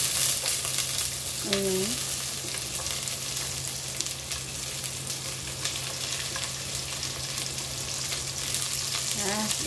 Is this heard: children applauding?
no